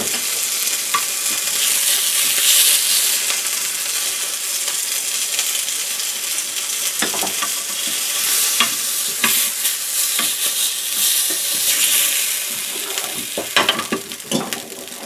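Chicken pieces sizzle and spit in hot oil for homemade doner kebab, a steady crackling fry broken by scraping stirs and clinks of a utensil against the pan, close and alone without talk.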